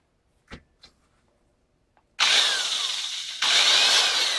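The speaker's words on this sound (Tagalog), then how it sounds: "Palabasin natin ang butas nitong drill." A power drill bores a hole through a wooden door while a knob lock is being installed, starting after a couple of soft knocks and whining loudly and steadily, with a brief pause before a second sustained burst.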